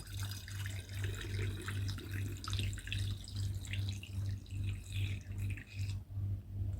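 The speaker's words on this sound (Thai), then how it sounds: "ยกแล้วก็เทลงขวดได้เลยค่ะ" Sugarcane coconut-syrup wine pours from a bucket into bottles in a steady, close, gurgling stream that runs almost unbroken with small splashes, then thins out near the end.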